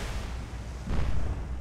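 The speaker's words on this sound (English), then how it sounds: "you guys can just watch the explosions" Dense, rumbling booms of naval gunfire and explosions in a video game roar continuously, swelling louder partway through.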